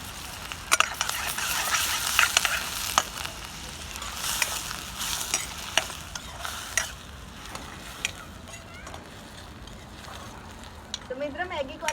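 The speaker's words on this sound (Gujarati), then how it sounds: "હવે આપણે મિક્સ કરી લઈશું." Maggi noodles with onion being stirred in a pan: a spoon scrapes and clacks against the metal in irregular bursts over a soft sizzle, close and fairly quiet.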